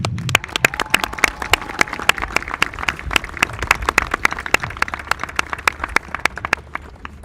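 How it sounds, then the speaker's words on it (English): Audience applause at a school culmination (graduation) ceremony: sharp, distinct hand claps in a steady, fairly brisk rhythm over a low murmur of crowd noise, sustained for several seconds. "Please help me applaud her and her colleagues, Miss Yancy and Miss Deja."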